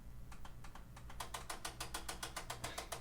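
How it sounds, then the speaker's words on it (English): Rapid, dry clicking from a failing disk drive inside a TV, a steady run of sharp ticks that starts sparse and quickens into an even rhythm over a low hum, close and alone. "The clicking sound is the disk drive inside the TV that doesn't work."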